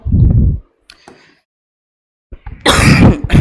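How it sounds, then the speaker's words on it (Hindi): Loud coughing close by, a short burst at the start and a heavier fit of coughs near the end, separated by quiet. "भाई खांसी अब भी परेशान कर रही है।"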